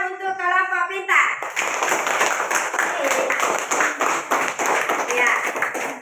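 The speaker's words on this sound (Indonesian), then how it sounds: "Kalau begitu tepuk tangan untuk kelompok pintar." Classroom children clap together for a group of classmates, a burst of many small hands clapping briskly and fairly close after a short spoken line, continuing as a steady patter.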